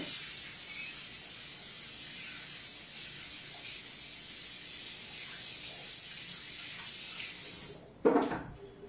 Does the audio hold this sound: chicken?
no